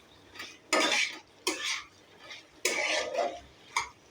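Spoon scraping and clinking against a cooking pot while spices and potatoes are stirred for a rohu fish curry with gati kochu, in four separate bursts of scraping with quiet pauses between.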